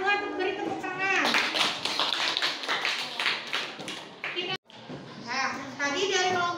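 A short burst of clapping from a small classroom group thanks the second student group after its presentation, mixed with children's voices and chatter, breaking off briefly before talk resumes.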